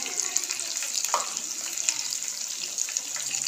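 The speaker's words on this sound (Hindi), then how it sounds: "ऑयल गर्म हो गया, अब इसके अंदर ये पीसेस मैं डाल दूँगी।" Chicken leg pieces frying in hot oil in a home kitchen pan, with a steady bright crackling sizzle heard close and alone, and small bursts as the pieces settle.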